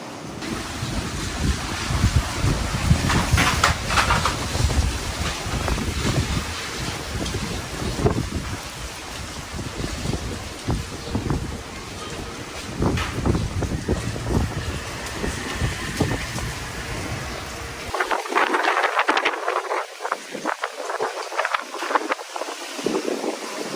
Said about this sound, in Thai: ฟังเสียงลมก็รู้นะครับว่าแรงจริงๆครับ